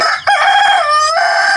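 A rooster crows loudly and close by over a background of other chickens, one long drawn-out call rising and holding before breaking off.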